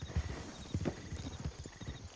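Horse hooves clip-clop in the RedM western game, a rapid uneven run of hoofbeats on hard ground, close and steady, with a faint whinny-like tone behind them.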